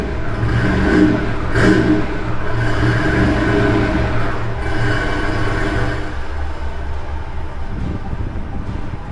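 A Falconer Dodici custom car's 12-cylinder engine revs hard and holds a loud, throaty roar for several seconds, rising and falling slightly, close by.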